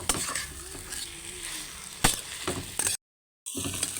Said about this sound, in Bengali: তো এই মাছের মাথাটার সাথে আমি কচু শাকটা ভালোভাবে মিশিয়ে নেব